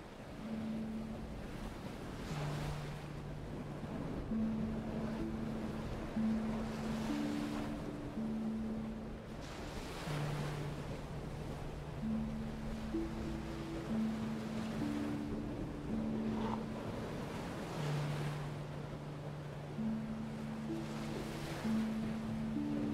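Ocean waves wash gently and steadily onto a beach, a soft continuous surf swelling and receding every few seconds under a calm, slow melody.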